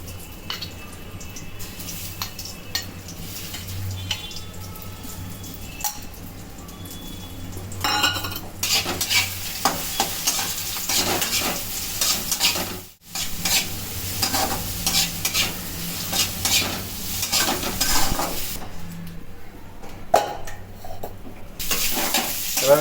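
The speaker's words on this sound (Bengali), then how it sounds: "তেলে ভেজে নেওয়া হচ্ছে" Egg-coated soybean chunks fry in hot oil, a continuous sizzle with a spoon or spatula scraping and clinking against the pan now and then, close and steady.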